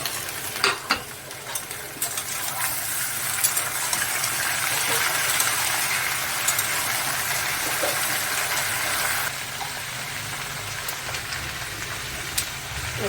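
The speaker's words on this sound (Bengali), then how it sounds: "এবার আলুটা ভাজা ভাজা হচ্ছে" Potatoes frying with spices in a pan for a prawn and taro curry give a dense, steady sizzle and hiss, close up, with a few early clinks and a drop in intensity near the end.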